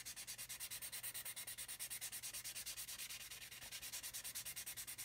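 Sanding on an Airfix 1/72 scale Vulcan plastic model kit: fast, even back-and-forth strokes, close and steady, with no voices.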